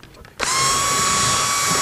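A power drill bores out and enlarges holes in wood in a shop, starting abruptly and running as a steady, loud, close whine.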